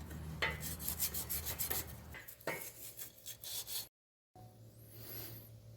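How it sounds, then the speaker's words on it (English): Sandpaper rubbed by hand over a rear cover during an LS 5.3L engine rear main seal job, giving close, rhythmic rasping strokes that break off briefly near the end before resuming more softly. "I hit it with a little bit of sandpaper for a minute"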